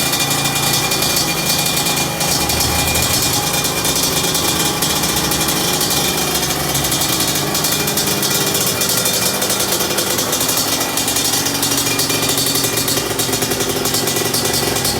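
A Yamaha RX King motorcycle engine idles while warming up, set up for trail riding, a close, loud, steady rattling buzz that continues throughout with no talk over it.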